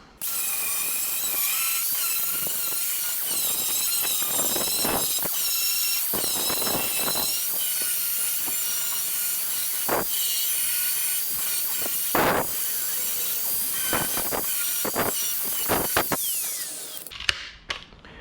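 Sanding on the thin 0.8 mm sheet-metal body panel of a Datsun 1200 coupe, a steady close abrasive rasp with repeated back-and-forth strokes and scraping bursts running throughout, ending abruptly.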